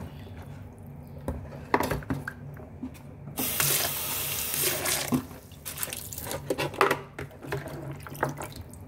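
Water pours and splashes into a sink in a strong, rushing stream while chicken soup herbs are rinsed, with clinks and clatter of dishes around it.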